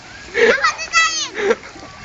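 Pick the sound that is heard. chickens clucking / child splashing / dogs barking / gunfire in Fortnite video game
child splashing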